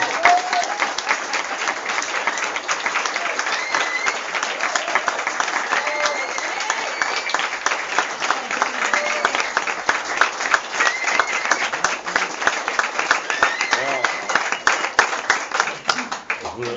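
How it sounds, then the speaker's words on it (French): An audience breaks into steady applause at a talk, dense clapping sustained for the whole stretch at a fairly even level, with a few scattered voices rising faintly through the crowd noise. "on peut déjà applaudir"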